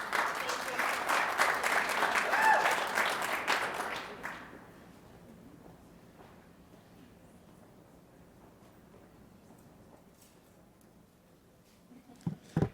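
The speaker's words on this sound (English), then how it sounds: "Thank you, round of applause." Audience applause at a live business event, with dense clapping for about four seconds that quickly dies away into quiet room noise, followed by a few faint thumps.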